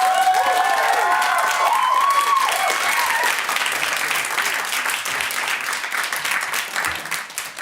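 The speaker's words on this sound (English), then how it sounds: "Can I have a massive round of applause for one last time for Amy, please?" An audience at a student question-time event gives a big round of applause for a guest, with loud, dense clapping and some cheering and voices, the opening whoops fading as the clapping gradually thins out.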